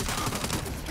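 Turret gunfire from the Saints Row video game, a dense, loud burst of rapid shots that fills the whole short moment.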